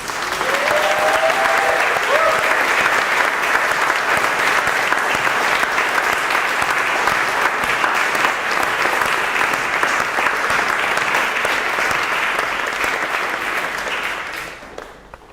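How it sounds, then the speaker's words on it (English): An audience at an awards ceremony gives a long, sustained round of applause that stays full and even throughout before tapering off at the very end. "I think that deserves a round of applause."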